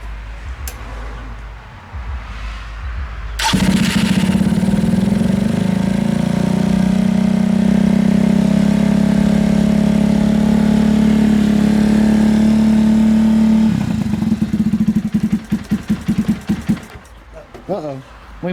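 Lifan KP mini 150cc motorcycle engine fitted with a 200cc big bore kit fires up cold for the first time, a loud steady idle running alone for about ten seconds before cutting out, with talk after.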